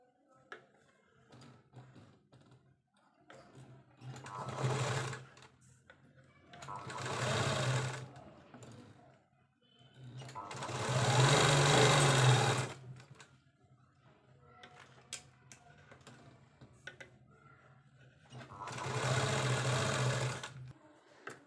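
A sewing machine stitches lining onto a baby frock in four separate bursts of rapid, whirring stitching, each lasting a couple of seconds and separated by quiet pauses with faint handling sounds.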